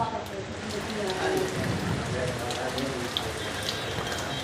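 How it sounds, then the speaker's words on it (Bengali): Heavy rain pours steadily on surfaces outdoors, a dense, even close hiss of drops with a few sharper drips, while a voice talks briefly underneath. "প্রচুর বৃষ্টি হইতেছে"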